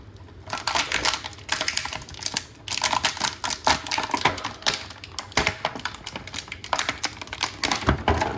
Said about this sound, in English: here comes some crinkling noises